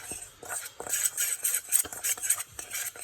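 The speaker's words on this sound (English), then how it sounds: "So if I just give that a nice little mix" Spices including paprika and fennel seeds mixed in a bowl, with quick close scraping and clinking of a utensil in a few short bursts, fairly quiet and without voices.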